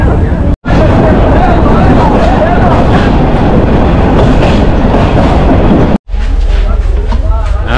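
Steady loud rumble of a moving train in Chittagong, Bangladesh, with rattling wheels, continuous throughout, briefly cut twice; voices murmur underneath.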